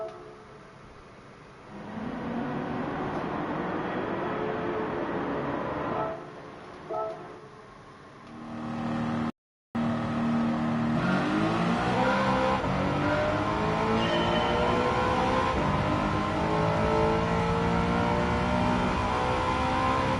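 Race car engines in Gran Turismo 7 drone and rev through rising gear sweeps, with a brief cut near the middle, then a strong acceleration that climbs in pitch and holds at a loud, steady whine.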